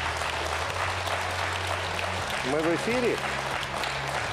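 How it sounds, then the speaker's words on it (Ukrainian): Studio audience applauding a guest on a Ukrainian talk show before a commercial break, a steady wash of clapping that runs underneath as voices start talking near the end. "А оплески гостю"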